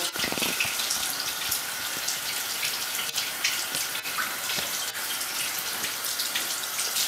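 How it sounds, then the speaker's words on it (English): Running tap water splashes steadily while soap is rinsed out of a makeup brush, a continuous close hiss with small shifts as the brush moves through the stream. "Get the excess soap out just like that, and wash the rest of the soap"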